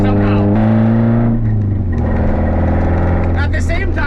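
A drift car with a welded-in test pipe idles loud and raw before its engine climbs in a rev, the harsh exhaust drone filling the space up close and continuous.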